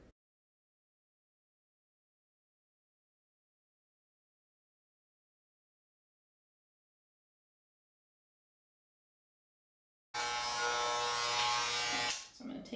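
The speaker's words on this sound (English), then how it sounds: "So I'm going to start out by putting the half guard on here and just shaving all the way about a little bit above his ear." Electric hair clippers fitted with a half guard buzz steadily, close and loud, as they shave a man's hair just above the ear. The buzz starts abruptly after a long silence and runs for about two seconds before easing off.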